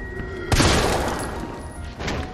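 Gunfire in Resident Evil 3, one loud close burst that trails off into a rumbling decay, followed by a softer second hit near the end.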